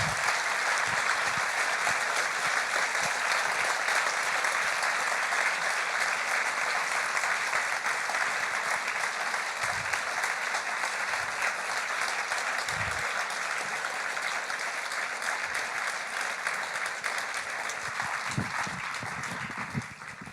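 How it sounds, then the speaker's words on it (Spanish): An audience at a forum on Guatemalan memory and justice applauds steadily for about twenty seconds, a continuous wash of clapping that holds its level and thins slightly at the close. "Un aplauso, por favor."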